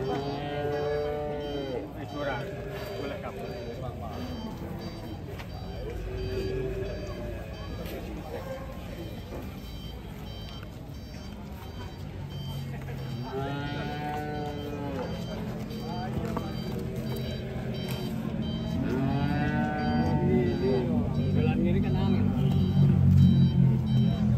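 Deep moos from a very large cow sound several times over a noisy outdoor background with truck engine rumble and people talking nearby.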